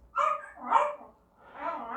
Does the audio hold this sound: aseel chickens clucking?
no